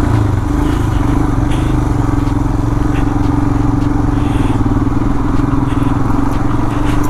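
An off-road motorcycle rides over a city flyover in a traffic jam. The engine drones loud and continuous, with road rumble and rattling throughout and no pauses.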